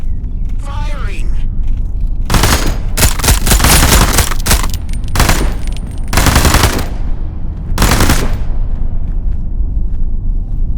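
Bursts of automatic gunfire from the video game Into The Radius 2, loud and close, coming in several long volleys separated by brief pauses.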